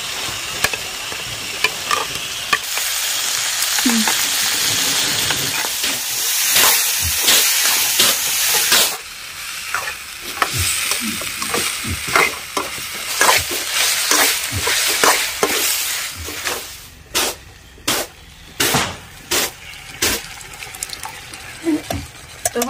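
Homemade tomato paste sizzling loudly with potatoes in a hot pan, a dense hissing fry that surges as the mix is stirred, then a run of regular scraping strokes toward the end, close and with no talking.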